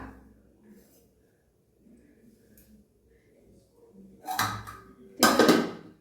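Cooked rice scraped and shifted in a saucepan, two short clattering bursts of utensil against pan near the end after a quiet stretch, close by.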